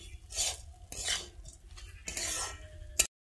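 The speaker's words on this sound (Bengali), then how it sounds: "চালটা 2 মিনিট ভেজে নিলে আদা আর কাঁচা লঙ্কার যে একটা কাঁচা গন্ধটা কেটে যাবে এতে" Raw rice stir-fried in a pan with ginger and green chillies for pulao, a few separate scraping stirs with a spoon and a soft sizzle, short pauses in between.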